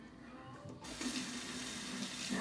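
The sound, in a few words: water tap running while rinsing a razor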